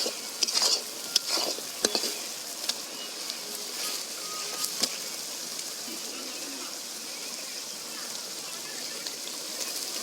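Chicken pieces sizzle and fry in a cooked-down spiced masala, with steady hissing broken by occasional scraping clinks of a spoon stirring the pan, heard close.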